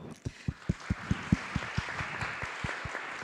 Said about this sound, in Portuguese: eu vou pedir os aplausos de vocês para cada um deles